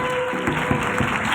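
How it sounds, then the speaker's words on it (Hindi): A church congregation at a healing ministry service claps together at the pastor's call, a brief burst of rhythmic, fairly loud group clapping over a steady room hum. "जोर से ताली बजाएंगे आप अपनी।"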